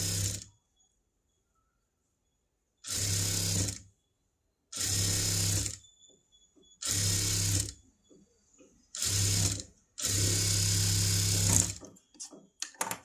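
An electric sewing machine hems a princess-cut boat-neck blouse in five separate bursts of fast, buzzing stitching, each a second or two long and separated by silent pauses, with a longer final run and faint clicks at the end.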